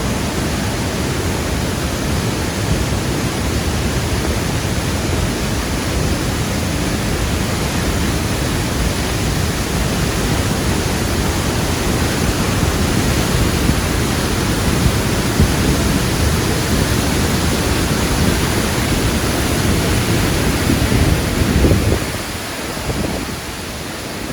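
Steady, dense roar of the rushing Banias waterfall in Israel at high flow, loud and continuous, with a slight drop near the end.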